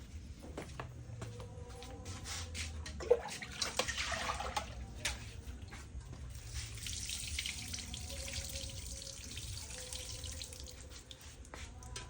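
Cold tap water runs and splashes over freshly boiled noodles in a kitchen sink, a close, moderately quiet flowing patter with small knocks and clatters of the pot and strainer.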